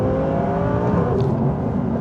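Tuned 1270hp Audi TT turbo engine roaring loud and close in a sustained steady drone, with a brief airy fluttering burst near the middle.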